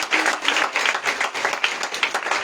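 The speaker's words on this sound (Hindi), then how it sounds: "ताली बजाओ ना, कोई तो एक जन ताली बजाओ।" Scattered, uneven handclaps from a church congregation during a Sunday worship service, a thin ripple of clapping with a few louder claps, moderately close and without talking.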